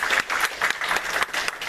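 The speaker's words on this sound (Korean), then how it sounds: "우리 축하 격려의 박수 받도록 하겠습니다" Congregation applause in a church service, a room full of hands clapping steadily and fairly loud for close to two seconds with no voices over it.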